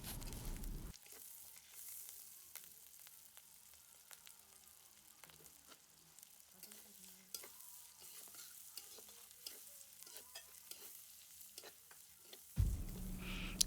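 Ground tomato paste fries in oil for a prawn dish, a steady soft sizzle broken by repeated scraping taps of a spoon stirring through the pan, close by with no talking.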